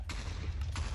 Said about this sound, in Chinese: 他们在炸了，他们在炸了